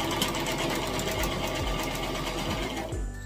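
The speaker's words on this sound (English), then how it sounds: "So I'm gonna go ahead and sew this." A sewing machine runs steadily while stitching a tutu skirt, a close, continuous mechanical whir with a quick rhythmic needle chatter that eases off near the end.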